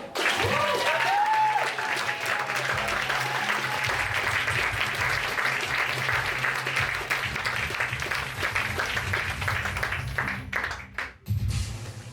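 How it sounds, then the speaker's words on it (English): An audience at a science slam applauds a presenter, broad, continuous clapping from a large crowd with a brief whoop near the start, fading briefly toward the end. "Big applause for Roy Hammer"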